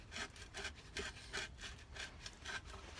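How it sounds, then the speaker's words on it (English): A metal file reams out a hole in a cigar box guitar, producing a steady rhythm of close, raspy strokes, about two per second, back and forth against the wood. "So we're using a file to ream out the hole so that's big enough."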